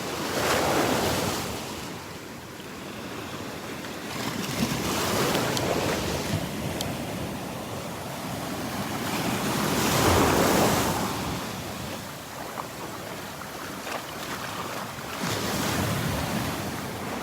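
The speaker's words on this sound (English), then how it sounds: "The waves are bouncing that tree all around." Gulf surf at Delnor-Wiggins beach rolls in and washes ashore in slow, swelling surges, with a broad roar rising and falling every few seconds under gusty wind buffeting the microphone; no one speaks.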